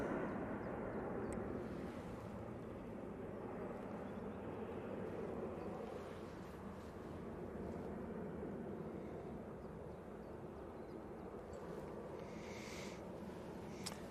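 An EasyJet jet airliner bound for Bilbao takes off at Manchester Airport, a steady, loud broadband engine roar that holds for the whole stretch with only slight swells.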